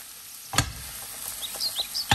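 Cucumber pieces fry in a pan, giving a quiet steady sizzle with a few sharp stirring clatters at the start and end.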